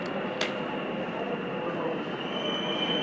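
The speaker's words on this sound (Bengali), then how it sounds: "গ্রিন লাইনের মেট্রো আসছে ফাঁকা।" A Kolkata Metro Green Line train pulling into a station, a continuous loud rumble with a sustained high wheel squeal and a short sharp screech near the beginning, heard up close without talk.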